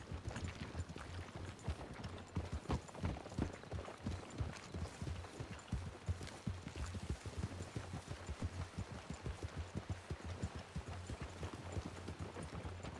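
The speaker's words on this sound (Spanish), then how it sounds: "Ay, el caballo." Rapid, continuous clip-clop of a horse's hooves at a steady gallop in the video game Red Dead Redemption 2 (RedM roleplay), close and fairly loud, with a low constant hum beneath.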